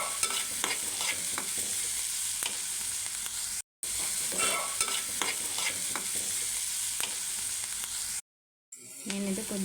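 A spoon scrapes and stirs onion samosa filling with salt and turmeric in a sizzling pan, rhythmic scratchy strokes over constant frying hiss, broken by two brief drops to silence near the middle and end.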